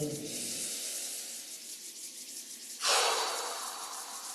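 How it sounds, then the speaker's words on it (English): Palms rub together in a dry, steady friction during a qigong exercise, with a soft breath first and a louder, sharper exhale or rub surge near the end. "Rubbing the palms together and breathing."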